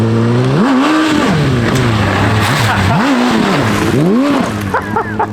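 Modified Suzuki Hayabusa engine fitted to a cross (off-road) motorcycle, revving hard in repeated rising and falling swoops, loud and close, with a sharp climb near the end.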